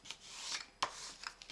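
Paper folds pressed and creased flat by hand while assembling a scrapbook mini desk, heard as a few close, soft rubbing and scraping strokes with brief sharper swipes.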